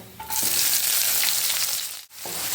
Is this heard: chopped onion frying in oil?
yes